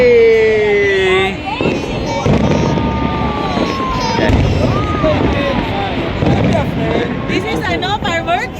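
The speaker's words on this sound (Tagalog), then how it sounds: "This is fireworks? Fireworks only." Fireworks display over Al Majaz, Sharjah, with continuous loud booms, crackles and whistling rockets from a large crowd setting, while people talk and cheer excitedly close by throughout.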